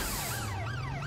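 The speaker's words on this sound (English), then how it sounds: "I got hit so hard I took the sirens on." Police sirens wail in Watch Dogs: Legion, a loud rising and falling electronic siren cycling continuously over a low rumble for about a second, with no talking.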